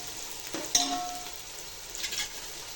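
Garlic sizzles and fries in a hot pan with a steady, soft crackle, broken by a sharp clatter of stirring and a brief louder spatter, no voices.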